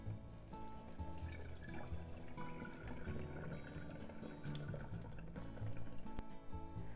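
Rinse water drains and trickles out of a bowl of rice, an uneven splashing and dripping flow with small clinks, close and moderately quiet throughout.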